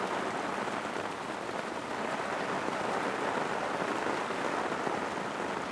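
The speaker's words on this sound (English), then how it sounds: "And the storm decided to pick up a little." Steady, dense rain pours down during a storm outdoors in a workspace beside a Jeep TJ under brake repair, a continuous close hiss of drops on surfaces with no voices.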